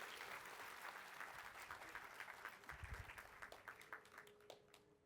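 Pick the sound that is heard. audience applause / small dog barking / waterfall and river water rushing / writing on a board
audience applause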